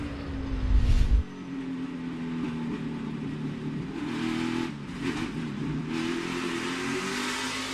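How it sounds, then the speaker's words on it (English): A NASCAR Cup car engine at Martinsville holds a steady mid-pitched drone under throttle during a pass, following a brief loud low rumble at the start and some crowd-like wash. "listen to the throttle of the 12 as the 3 is trying to get by him"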